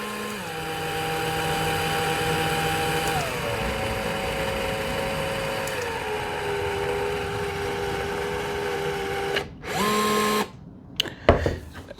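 A SEESII cordless caulking gun motor runs on its fastest mode, a close, steady electric whine that shifts pitch downward a couple of times, then stops and restarts in short bursts.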